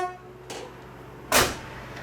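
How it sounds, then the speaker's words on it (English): The factory horn on a Ford bullnose hot rod gives a short, buzzy tone that fades quickly, followed by a couple of dull knocks. "The factory horn sounds like this."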